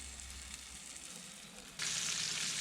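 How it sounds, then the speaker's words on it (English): Veggie kabobs sizzle on an outdoor grill beside fish, a soft steady hiss that suddenly swells into a louder, brighter sizzle near the end, heard close with no talking. "we got the kabobs on the grill"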